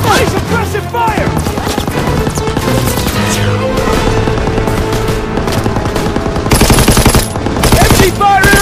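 Dense, rapid machine gun fire rattles continuously in a Call of Duty WW2 battle at Hill 493 in the Hurtgen Forest, with bursts overlapping into a loud, sustained fusillade and a heavier surge near the end.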